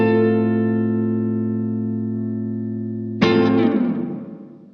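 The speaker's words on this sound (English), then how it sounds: "So I want you to listen to that hall reverb again and listen for how it's not that." A Boss RV-2 digital reverb pedal on its hall setting lets a held, ringing note sustain and slowly decay. A fresh strummed attack follows, which blooms into a wash of spacious tail before trailing off.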